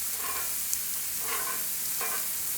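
Steady sizzling of stuffed mushrooms frying in bacon grease, a continuous crackling hiss with a few louder bursts of spattering, close and without talk.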